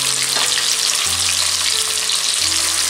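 Marinated anchovies (nethili) deep fry in hot oil, a loud, dense, continuous crackling sizzle filling the whole stretch with no pauses and no voices, heard very close.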